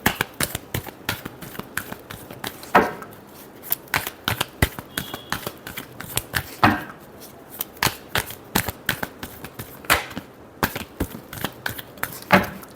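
Tarot cards being shuffled close up in a steady run of brisk, rhythmic riffles and slaps lasting over twelve seconds, with no talking over them.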